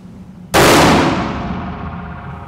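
A single sharp, loud gunshot from a gun fitted with a Mammoth Arms muzzle brake, fired close by, followed by a long ringing decay that fades over about two seconds.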